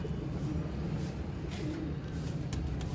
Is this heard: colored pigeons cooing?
yes